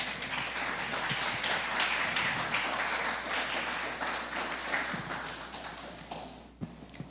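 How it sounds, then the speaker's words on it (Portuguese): A church congregation claps in welcome for a first-time visitor, sustained crowd clapping in a reverberant hall that holds steady for several seconds, then thins and fades with a final stray clap or thump. "Palmas para o Senhor"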